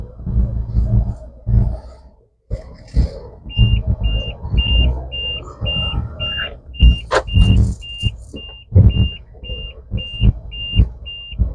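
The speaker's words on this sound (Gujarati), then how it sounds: "આ બીપનો અવાજ સીટ બેલ્ટ થી જ જશે" A Mahindra Scorpio S11's seat belt warning chimes in a steady run of evenly spaced beeps, starting a few seconds in and continuing to the end, beneath people talking and cabin rumble.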